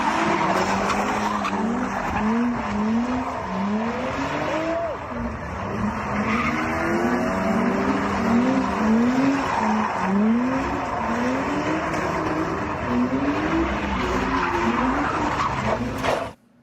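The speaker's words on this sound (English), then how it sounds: "the people who looted that store then did burnouts in the street while the store was being looted" Car tires screeching through burnouts on a Los Angeles public street, a sustained, loud, wavering squeal with rising and falling pitch sweeps and engine roar underneath, lasting about sixteen seconds.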